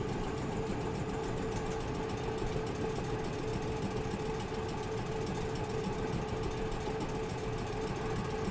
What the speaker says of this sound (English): Oh, even hearing the compressor as well.